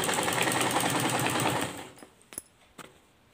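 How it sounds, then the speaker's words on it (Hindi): Sewing machine running a fast, steady stitch along a kurti neckline for about a second and a half, then stopping, followed by a few faint handling clicks. "पलटने के बाद हम अपने नेक पर एक मोटे पैर चला से सिलाई लगाएंगे"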